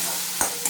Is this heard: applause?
no